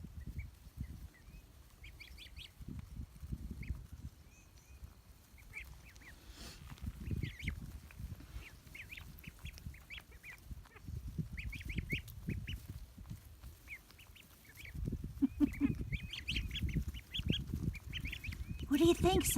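Ducks and a goose outdoors, a steady chatter of quacks and soft honks rising and falling, with low rustling and wind underneath and some talking nearby.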